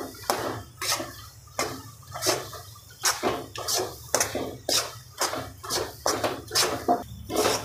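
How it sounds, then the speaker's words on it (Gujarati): Spoon stirring milk powder into a coconut ladoo mixture in a pan, a steady rhythm of close scraping and clinking strokes about every half second, with no talking. "હવે મિલ્ક પાવડર નાખ્યા પછી એકદમ હલાવી લેવાનું, ક્યાંય ગાંઠ ન બાજી જવી જોઈએ"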